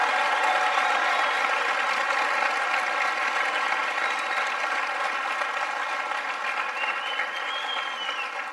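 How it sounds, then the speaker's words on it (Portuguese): A large crowd applauds steadily, dense continuous clapping that stays loud throughout and eases slightly toward the end. "então receba essa salva de palmas"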